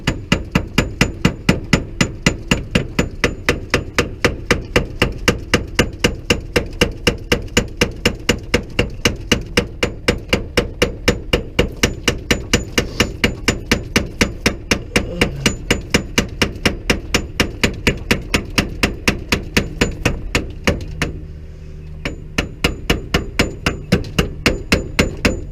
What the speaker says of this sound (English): I'm going to try to use the hammer